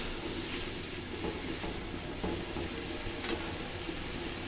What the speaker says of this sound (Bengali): কলই শাকটা প্রথমে একটু সিদ্ধ করে নিচ্ছি।